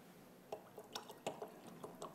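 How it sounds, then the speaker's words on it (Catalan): Water poured into a bottle during a physics lecture, heard as faint, irregular drips and small splashes spaced through the moment, quiet and close with no talk over them. "li poso més aigua, i el so"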